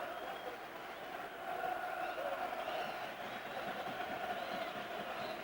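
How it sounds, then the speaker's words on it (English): Blackburn Rovers supporters cheering at a home match against Burnley, a distant roar of crowd noise swelling slightly, heard under a commentator's voice. "So you can hear the Blackburn end cheering Rovers on."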